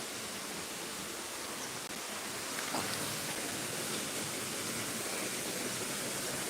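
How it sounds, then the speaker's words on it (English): At the bottom of a waterfall in a nature reserve, water crashes in a continuous, dense broadband roar, close and steady without a break. "Bottom of the waterfall."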